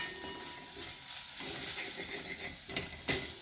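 Garlic, onion and spice masala stir-fried in a pan, giving a steady close sizzle with occasional scraping stir strokes and small bursts of crackle near the end, no talking.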